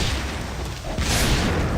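A video game explosion from Ninja Gaiden II lands as a broad, noisy burst in the middle of steady dense game noise, followed by a rushing roar that fades out, with no talking.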